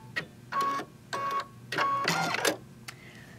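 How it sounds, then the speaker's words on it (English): A home embroidery machine slows its stitching, ties off the thread and trims it. It gives a few short, close mechanical bursts of whirring and clicking, separated by brief pauses, ending with a faint whine. "You'll see that the machine slows down, it ties it off, and on this model it'll even cut it for me."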